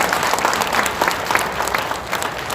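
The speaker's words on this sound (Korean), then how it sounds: "심 목사님께 박수 한번 보내주세요." A crowd at an outdoor patriotic rally gives a pastor a round of applause, thick continuous clapping throughout with no break.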